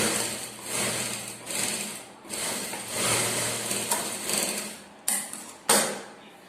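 A domestic sewing machine stitches a plain blouse in steady whirring runs, pausing between bursts with a couple of sharp clicks near the end, close and moderately loud with no voices.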